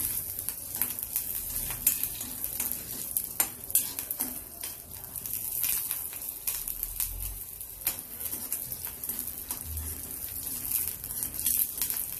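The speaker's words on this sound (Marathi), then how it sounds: "हिरव्या मिरच्या फ्राय करून घेऊ." Green chillies fry in hot oil with a constant hiss, broken by repeated clinks and scrapes of a spoon stirring against the pan.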